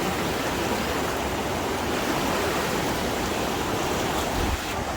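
Water rushing steadily along a canal in Turgi, a dense continuous broadband wash that stays loud and close with no change in intensity and no voices.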